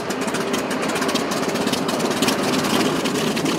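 An airplane engine at the Duluth Air Show gives a loud, close, steady propeller drone that fills the whole stretch, with no speech.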